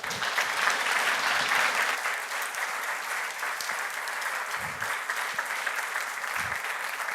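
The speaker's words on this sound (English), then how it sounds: "Let's applause Lars." Audience applause after a presentation at a process mining summer school, a dense, steady round of clapping from a room of listeners that swells early and then holds evenly.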